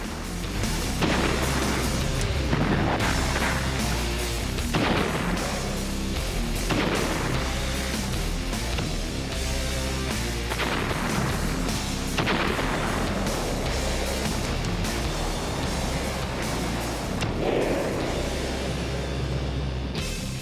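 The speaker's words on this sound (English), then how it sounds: "American soldiers unleash a 140-gun artillery barrage." An American 140-gun artillery barrage at Guadalcanal pounds away in a continuous roar, heavy booms landing every couple of seconds over a dense rumbling bed, loud throughout with no voices.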